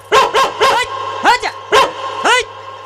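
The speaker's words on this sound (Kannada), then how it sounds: "ಯಾವ್ದೋ ಹುಚ್ಚು ನಾಯಿ ನೋಡು" A dog barks in a stage comedy play, giving six sharp, close barks: three in quick succession, then three more spaced about half a second apart.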